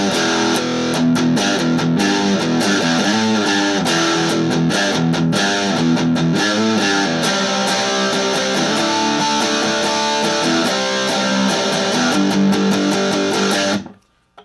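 Distorted electric guitar through the bridge pickup of a Mexican-made Fender Telecaster, playing a dense, continuous, loud riff for about fourteen seconds before stopping abruptly.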